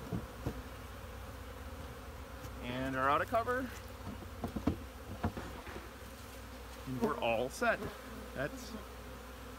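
Honeybees buzz around a newly installed hive, a steady close swarm hum, while someone talks over it in short bursts.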